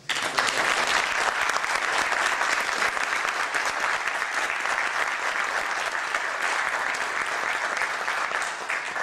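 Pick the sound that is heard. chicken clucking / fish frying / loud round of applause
loud round of applause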